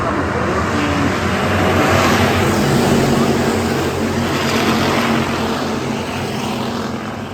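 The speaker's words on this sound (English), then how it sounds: "As they're racing into 1 and 2, Tim McCollum right there through the center" Hobby stock race cars thunder around a speedway in a feature race, a loud, steady, dense engine roar that swells and eases slightly as the pack passes.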